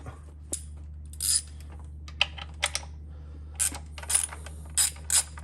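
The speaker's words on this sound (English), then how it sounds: "So now we just gotta pull and pry it off." Prying a blower pulley off an LSA supercharger in a shop: a sequence of short metallic clicks and scraping knocks in irregular bursts, close by, over a steady low hum, with no talking.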